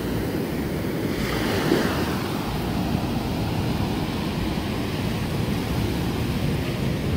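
Waves break on a beach at sunrise, a loud continuous roar of surf with wind buffeting the microphone and no talking.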